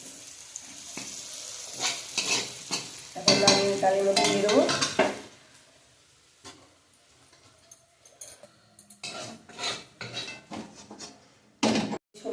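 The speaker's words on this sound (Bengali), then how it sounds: "বাকি সবজিগুলো ভেজে দিচ্ছি" Mixed vegetables for a Bengali veg dal frying in a pan, with loud scraping stirs and clinks of the spatula over a steady sizzle, busiest in the middle and ending in a few sharp knocks.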